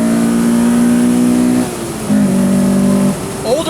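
Engine of a 1998 Acura Integra Type R DC2 heard from inside while driving, a loud steady droning hum that briefly dips, as if between gears, then holds at a slightly lower pitch.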